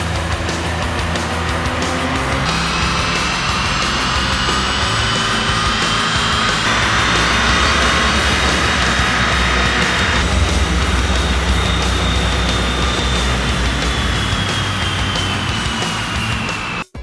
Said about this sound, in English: let's get this thing on the dyno and see what it can do for power.